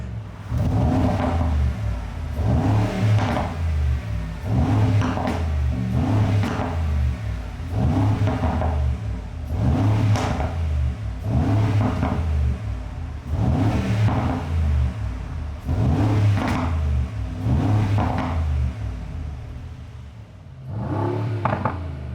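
Urban G700S Mercedes-AMG G63 V8 in Sport Plus mode revving hard, about ten loud rhythmic rev bursts, each swelling and falling back, heard close and alone.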